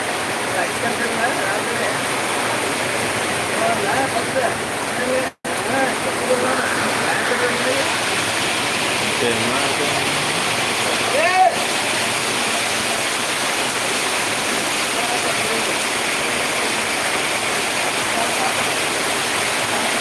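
Heavy early morning rain falls as a steady, dense hiss that stays loud and even throughout, with a brief cut partway through and faint voices in the background.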